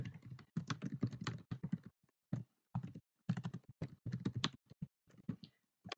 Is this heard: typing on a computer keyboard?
yes